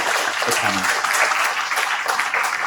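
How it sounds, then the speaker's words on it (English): An audience applauding a panel at a celebration event, a dense, even burst of clapping from a crowd heard close, with a brief voice near the start. "if you can just show your appreciation and a round of applause for the"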